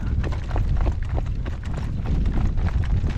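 Steady clip-clop of a horse's hooves pulling a cart on a windy day, close and loud, a continuous even trotting rhythm with no voices.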